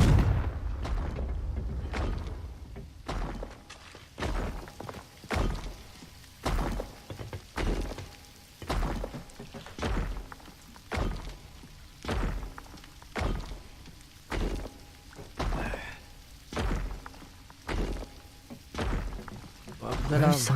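Repeated Confringo spell blasts in the Hogwarts Legacy video game, a steady series of about fifteen sharp thudding impacts at roughly one per second, fairly close, with faint game ambience between them.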